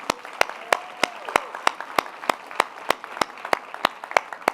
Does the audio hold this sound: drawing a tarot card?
no